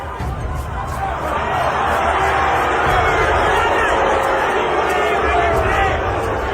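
A large crowd at a Tyson versus Tucker heavyweight boxing match in an arena rumbles in a steady roar with murmuring and scattered shouts, while a commentator talks over it.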